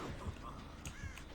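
A crow caws in Dead by Daylight, a faint raspy call amid low game ambience, heard only briefly.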